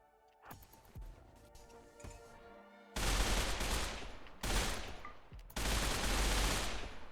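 A wall of turrets fires in the Rimworld video game. A quieter opening with tonal game sounds gives way to three long, loud volleys of rapid gunfire.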